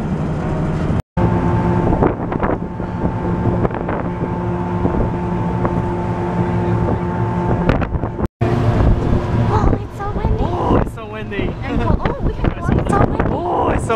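Steady wind buffets the microphone in a loud, continuous roar, with an engine-like hum underneath and a few brief dropouts.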